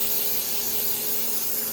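A continuous, close hiss of cooking spray sprayed onto a baking tray, steady for a couple of seconds.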